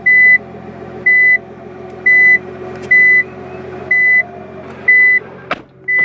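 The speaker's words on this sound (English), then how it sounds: "when I put it into reverse, you'll notice the beeping noise" A Nissan GT-R's reverse alarm beeps repeatedly at a steady rhythm, about once per second, over a low idling engine hum, heard inside the car.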